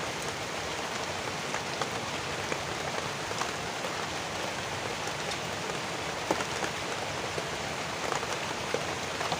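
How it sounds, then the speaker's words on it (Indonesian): Steady rain falling outdoors by the upper Cisadane river near Bogor: an even, dense hiss of drops hitting surfaces, with scattered closer patters, constant throughout and free of speech. "hujan"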